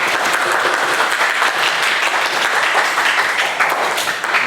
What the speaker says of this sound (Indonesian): Coba beri kita tepuk tangan bagi kita semua lagi.